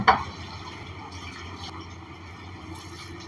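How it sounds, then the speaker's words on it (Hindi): One litre of water poured into a pot over 100 grams of flowers and 100 grams of jujubes for a red sharbat extract; a brief splash opens, then a steady low pouring wash continues close by. "अब इसके अंदर हम डालेंगे 1 लीटर पानी।"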